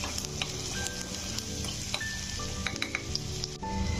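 Finely chopped onion sizzles in oil and ghee while it browns, a dense, even frying crackle throughout with occasional light clinks of a utensil.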